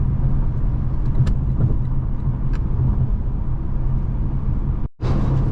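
A Lexus LC 500 cruising on the road on a long-distance drive, a steady loud rumble of engine and tyre noise with a brief dropout near the end, no talk.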